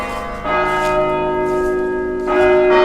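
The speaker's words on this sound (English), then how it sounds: "Here's the church bell." Church bell at St Nicholas Church in a Scottish kirkyard, ringing loud and close with a rich sustained hum, its strokes swelling again near the end with no voices.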